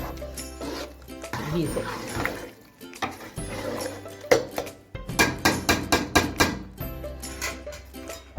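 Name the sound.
stirring gajrela with a spoon in a pot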